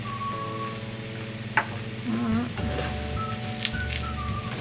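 Flour stirred into hamburger grease in a hot pan for a roux, a steady sizzle and scraping under faint background hum, with no talk.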